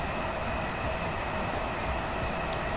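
A Class 387 Gatwick Express electric train runs on the London commuter line in Train Sim World 2, giving a steady, even rolling hum and wheel noise with a faint high whine and no talk.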